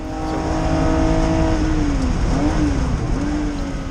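A 1974 Porsche RSR race car's air-cooled flat-six roars steadily at high revs on a lap, pitch dropping and climbing again with gear changes, loud and close.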